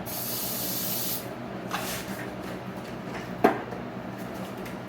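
A spray gun hisses steadily while coating a Zetor 6321 tractor headliner, a loud continuous spray for about a second before cutting off, followed by light handling clicks and a sharp knock.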